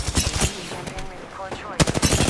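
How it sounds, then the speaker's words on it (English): Rapid bursts of video game gunfire in a ranked firefight, sharp repeated shots in two clusters separated by a brief lull, loud and close. "Opening fire on the enemy."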